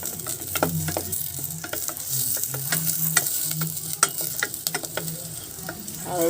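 Chopped onions frying in a hot pan, with a steady sizzle broken by repeated scraping and clinking as a utensil stirs them, close and clear with no talk.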